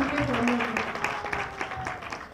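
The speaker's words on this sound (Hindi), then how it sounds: "अब भाभी के लिए तालियां बजाएं" Applause from a congregation at a church service, a brief burst of mixed clapping that swells and then thins out.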